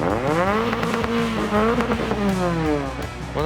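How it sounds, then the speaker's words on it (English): A loud car engine with a 3-inch exhaust revs hard and close by, its pitch sweeping up and down through several aggressive pulls with a raspy, booming tone, no talk over it. "It sounds like a Fast and Furious car."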